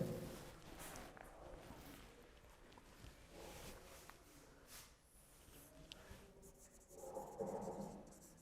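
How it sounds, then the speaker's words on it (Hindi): Handwriting during a ninth-grade biology lesson on tissues: steady scratching strokes of a pen across paper, close and soft, with a louder rubbing burst near the end. "मैं आपको लिख के बताता हूं"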